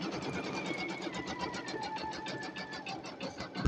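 A Brother VE2200 single-needle embroidery machine stitches an heirloom blanket, its needle hammering in a fast, even rhythm with a whining motor tone underneath, close and continuous.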